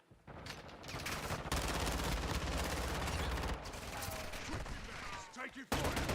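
Dense gunfire rattles through a military video game battle, sustained bursts and volleys of rifle and machine-gun shots layered continuously, with a brief lull near the end before shooting resumes.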